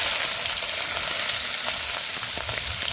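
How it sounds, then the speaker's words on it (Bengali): Chopped onions sizzle and crackle loudly in a hot wok, a steady hiss of frying with no voices. "এবার আমরা দিয়ে দিব কড়াইতে কাটা পেঁয়াজ"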